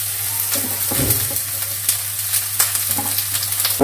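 Crushed onion, ginger and garlic with grated coconut frying and being stirred in a hot pan for a Kerala pappadam thoran, a steady close sizzle broken by scraping spoon strokes.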